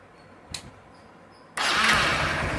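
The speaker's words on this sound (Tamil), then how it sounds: "வண்டி ஸ்டார்ட் ஆகிடுச்சு" A motorcycle engine being checked for seizing cranks once briefly, then catches and roars into a loud, steady running idle close by, with no voices over it.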